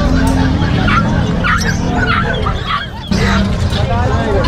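Chickens cluck and squawk in a crowded live-poultry section of a Philippine public market in Bocaue, a dense, continuous mix of bird calls with shoppers' voices and market bustle underneath.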